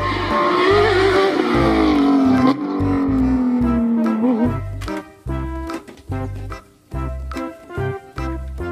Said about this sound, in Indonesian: Car racing. Mobil balap.